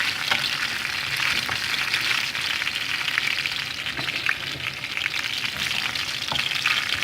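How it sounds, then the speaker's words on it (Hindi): Green chillies and curry leaves fry in hot oil in a steady, even sizzle that crackles throughout, joined by a few faint stirring taps and no voices. "हमने हरी मिर्चें डाली और थोड़ा सा कड़ी पत्ता ऊपर से डाला है।"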